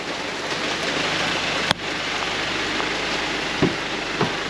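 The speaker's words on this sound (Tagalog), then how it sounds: "Ang lakas ng ulan" Heavy rain pours on the island of Palawan in the Philippines as a dense, constant hiss, close and fairly loud, broken by a few brief knocks and thumps.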